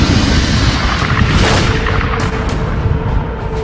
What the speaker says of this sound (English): pulsars are formed in these incredible explosions.